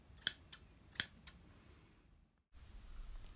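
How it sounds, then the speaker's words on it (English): Fabric scissors snipping through sewing fabric, four or five crisp close cuts in quick succession, then a pause and faint rustling, quiet and alone. "and then cut it out with your fabric scissors"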